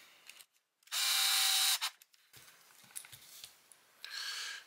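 An M3x20mm screw is driven into an RC crawler chassis, likely with a small power driver: one loud whirring burst of about a second, followed by quieter scraping and faint tool clicks.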